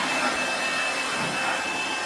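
A hard, steady rush of compressed air blasts water off a Farmtrac 30 Hero tractor, loud and continuous without pause.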